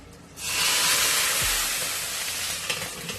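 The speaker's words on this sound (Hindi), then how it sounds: "अब मैं करी के ऊपर बघार लगा रही हूँ" Hot tempering (baghar) with turmeric is poured onto Pakistani-style pakora kadhi curry, bursting into a loud, sudden sizzle that hisses steadily and slowly fades.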